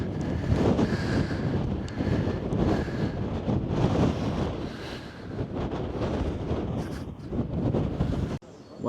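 Strong gusty wind blasts at Scarborough Castle, buffeting the microphone in continuous loud rumbling waves that rise and fall and end in an abrupt cut.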